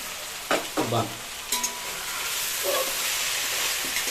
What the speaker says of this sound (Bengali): আমাদের কুমড়োটা একদম খুব সুন্দর কষে কষা হয়ে গেছে